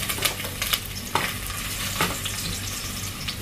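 Ginger sautéing in a hot pan for chicken tinola, a steady close sizzle with a few sharp stirring clicks and scrapes of a utensil over it.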